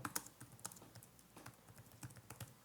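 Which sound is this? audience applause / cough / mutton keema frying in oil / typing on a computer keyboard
typing on a computer keyboard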